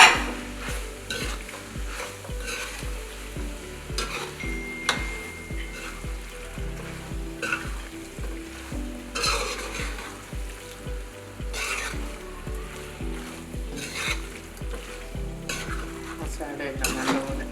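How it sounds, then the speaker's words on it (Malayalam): Beef masala being stirred in a frying pan, a steady sizzle and crackle throughout with repeated scraping strokes of a spoon against the pan and occasional metallic clinks, close and continuous for over seventeen seconds without talk. "ഇളക്കി കൊടുക്കും."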